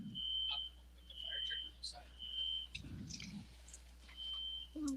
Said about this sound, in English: that fire alarm is so loud